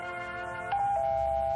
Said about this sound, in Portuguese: A campainha. Eu atendo.